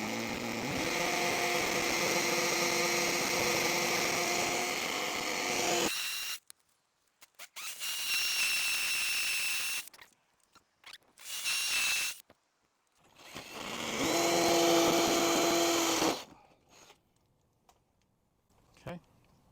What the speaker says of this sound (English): I've got it on hammer drill, and we're ready to go right here on the mortar joint